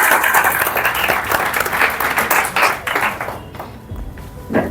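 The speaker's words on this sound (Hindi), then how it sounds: "एक बार जोरदार ताली हो जाए भाई अमन के लिए।" An audience at an awards ceremony and poetry gathering breaks into loud, dense applause that holds steady for several seconds before thinning out and tapering off.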